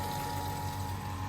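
A power flushing machine pumps water through a home heating radiator, giving a steady low hum with a constant rushing, gurgling flow underneath.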